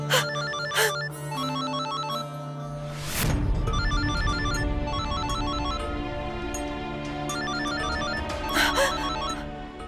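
A telephone rings with a repeated electronic trill throughout, loud and close, over a dramatic swelling music score with a sharp hit early on.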